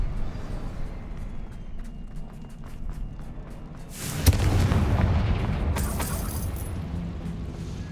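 A Confringo explosion spell in Hogwarts Legacy bursts with a sharp boom midway, followed by several seconds of rumbling, crackling blast debris over low background game noise.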